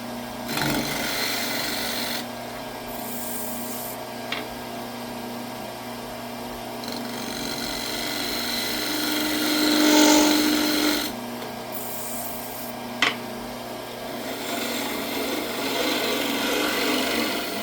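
A turning tool shear-scrapes a spinning wooden bowl on a lathe, a continuous soft rasping hiss under a steady motor hum, with a few brief swells and a sharp tick or two.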